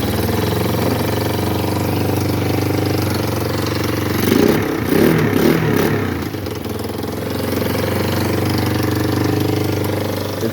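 A Kawasaki Bayou ATV engine runs loud and close, idling with a steady low rumble, briefly cranking and catching with rough bursts midway before settling back into a smooth idle.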